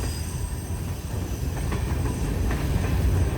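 A CSX freight train of boxcars rolls steadily past close by, a loud continuous rumble of wheels on rail with faint squeals and clicking joints throughout, with no voices.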